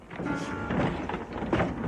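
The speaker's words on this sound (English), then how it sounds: "See, it's a piano being dragged along." A comedy sound effect of a piano being dragged along, playing as a continuous scraping, rumbling drone with a few heavier surges over two seconds, fairly loud and with no talking.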